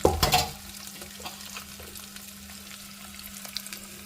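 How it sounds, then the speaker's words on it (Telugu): A brief clatter, then a steady, faint sizzle of tempering spices frying in oil for grated raw mango pickle continues on its own. "ఈ పోపు బాగా వేగాలన్నమాట పోపు అయితే వేగుతుంది"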